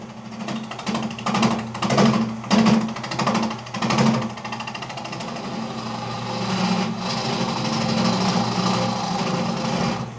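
A wood lathe trues up the bottom of a slightly spalted maple bowl, giving rhythmic, chattering bursts of cutting for the first few seconds and then a steady, moderate motor drone.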